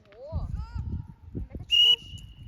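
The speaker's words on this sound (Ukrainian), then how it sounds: "А свисток не чули?" A sharp, shrill referee's whistle blast rings out briefly during a friendly football match, its tone lingering afterward, amid shouting voices on the playing field.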